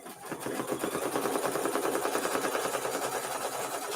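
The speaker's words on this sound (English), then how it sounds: "I'm going to just hit go here on my embroidery machine" An embroidery machine stitches the batting placement line for a Kimberbell mini-quilt, a fast, even mechanical chatter of needle strokes that starts up and runs steadily at close range, with no talking over it.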